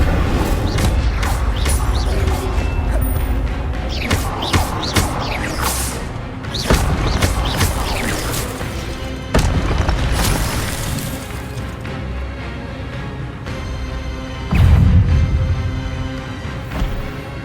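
Incendio fire spell cast in Hogwarts Legacy, with bursts, crashes and booming impacts through a busy magical battle, loud and continuous with heavy thuds standing out.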